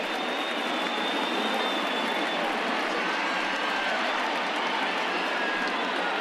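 Crowd of a bit over 30,000 at a baseball stadium rising to its feet, a steady loud roar of cheering sustained throughout with no breaks.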